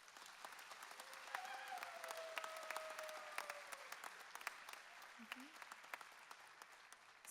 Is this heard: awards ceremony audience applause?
yes